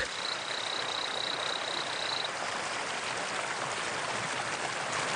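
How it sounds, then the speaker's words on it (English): A torrent frog gives a thin, high, sustained peep for about two seconds, then falls silent beside a loud, steady roar from a nearby waterfall in the Brazilian jungle, which continues throughout. "The torrent frog."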